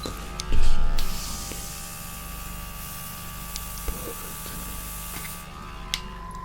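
An airbrush sprays paint onto a plastic model, giving a steady close hiss with a soft hum underneath and a brief louder burst near the start.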